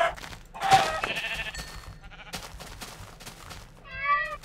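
A cat in Minecraft lets out a few short, close meows separated by brief pauses, followed by a clear, rising mew near the end, with no talking over it.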